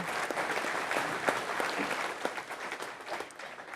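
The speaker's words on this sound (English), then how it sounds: "Give yourself a round of applause" Audience at a Michigan wheat program meeting clapping, a brief spell of scattered, moderately distant applause with individual claps audible, steady then tapering.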